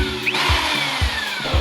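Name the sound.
power drill bit boring into steel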